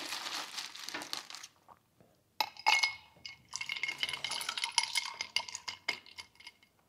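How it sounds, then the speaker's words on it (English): Ice cubes clink and rattle into a glass of Amaro Montenegro, a busy cluster of crisp knocks and crackles, then a short pause followed by more clattering and settling ice, close and moderately loud with no talk. "Let's add some ice, see if it makes any difference."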